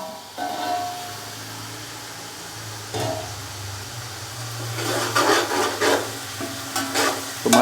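Onions frying in a covered pot for chicken pulao, with a steady low sizzle, then brisk scraping and stirring bursts near the end, close and fairly loud with no talk.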